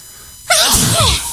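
A single loud, close sneeze bursts out after a moment of quiet, with a sharp breathy onset and a trailing nasal tail.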